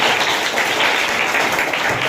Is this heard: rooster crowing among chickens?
no